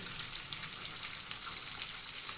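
Fish being added to a pan for a Bengali fish curry, giving a steady broadband hiss of frying or watery sizzle that runs evenly for the whole stretch at low level.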